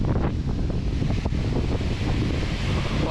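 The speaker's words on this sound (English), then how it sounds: "Excuse the wind blowing through on this episode" Wind buffets the microphone in open Scottish wilderness near a waterfall, a loud, constant roar of gusting noise with no voices.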